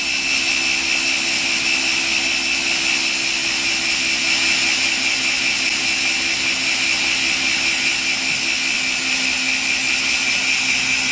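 A struggling blender whipping cream into butter, a loud continuous motor whine with a steady high-pitched mechanical hum, constant and unbroken throughout with no voices.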